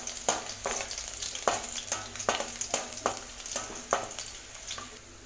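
Small pieces of garlic, four cloves' worth, frying in a pan for lemon rice, with a continuous sizzle broken by regular spatula strokes, close and without talk.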